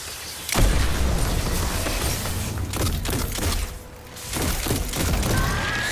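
Dense, continuous gunfire and explosive bursts from a solo Prestige Nightfall in the video game Destiny 2, loud and sustained with a brief dip partway through.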